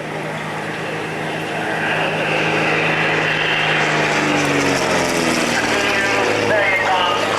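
A 1930s Messerschmitt all-metal propeller aircraft flies past at an air pageant. Its droning engine rises and shifts in pitch as it passes, steady and fairly loud, with someone talking over it.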